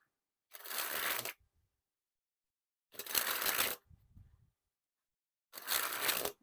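Fresh Bicycle Rider back playing cards with a bright yellow back design are riffled and snapped in three separate crisp, springy bursts, each about a second long, close and fairly quiet with brief pauses between.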